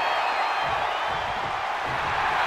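Arena crowd in the WWE 2K24 wrestling video game during a Royal Rumble match, a dense continuous roar of cheering and shouting that stays loud and steady throughout with no distinct breaks.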